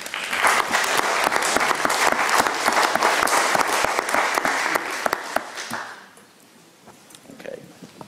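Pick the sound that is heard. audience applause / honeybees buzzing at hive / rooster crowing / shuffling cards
audience applause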